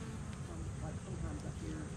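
A low, dense buzzing of many bees hums steadily throughout, close by and fairly quiet.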